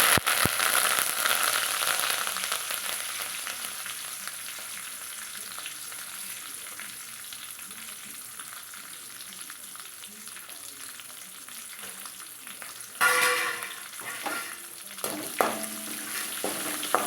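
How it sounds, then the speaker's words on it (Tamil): Curry leaves sizzle and crackle as they fry in hot oil for a crunchy mixture snack, a steady close hiss with a sharper burst of spattering near the end. "நல்லா முறு முருன்னு ஈரப்பதம் இல்லாமல் பொறிச்சு எடுத்துக்கணுங்க"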